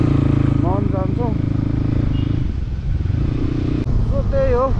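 A motorcycle engine drones steadily on a mountain road ride from Pokhara toward Myagdi's Chimkhola, with wind rushing past. A rider talks over the close, continuous engine noise for most of the stretch.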